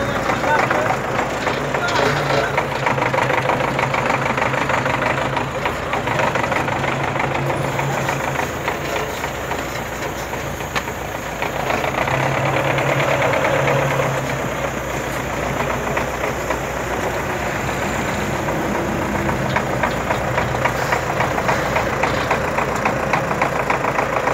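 A tractor engine labours and revs continuously while stuck, pushing a truck that has sunk in, heavy and close, its rumble rising and falling while people talk over it.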